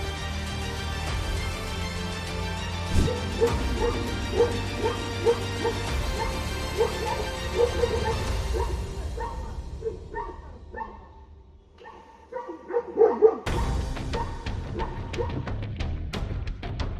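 Inside a house during a leopard attack, a pet dog yelps and whimpers in a burst of short, sharp cries over background music, then a brief near-silent gap before more yips and thuds return.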